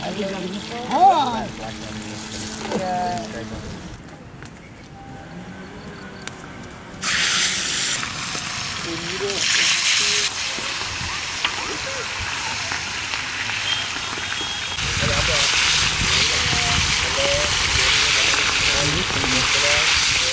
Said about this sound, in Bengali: মাছ ভাজা শেষ, এখন আমরা তুলে ফেলবো। দারুণ ভাজা আছে।